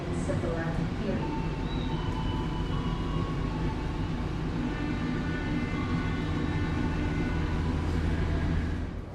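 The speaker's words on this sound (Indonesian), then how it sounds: "ini adalah ujung belakang dari satu rangkaian kereta api. Senja Utama Jogja" Senja Utama Jogja passenger train rolling past at a station in Yogyakarta, a steady loud rumble of wheels and cars with tonal hums and squeals, continuous throughout with no break.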